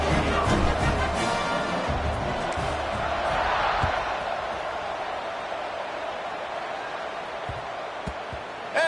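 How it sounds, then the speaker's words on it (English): Stadium crowd in a college football video game, Tulane at Buffalo, a steady loud buzzing roar that swells briefly mid-clip and then eases to a lower sustained murmur. "this crowd is buzzing after that last score"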